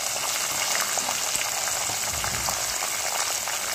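Steady, dense sizzling of okra (bendakaya) frying in oil in a pan, a continuous close crackle with occasional stirring and no talk.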